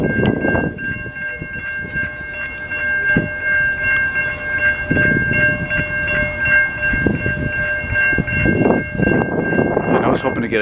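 VIA Rail passenger train passing in Montreal, loud and close, with a sustained horn sounding over rumbling wheels and clanking cars, voices talking at times.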